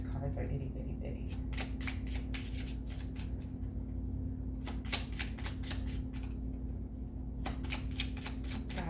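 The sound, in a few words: shuffling small oracle message cards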